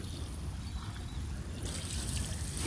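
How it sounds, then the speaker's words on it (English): Water splashes and trickles steadily onto freshly laid garden soil being soaked, a close continuous pouring wash that brightens slightly toward the end. "Now we just need to water it."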